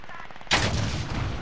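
A single loud gunshot rings out in the video game Warzone, a sharp blast followed by a rumbling tail, cutting off a softer background hum.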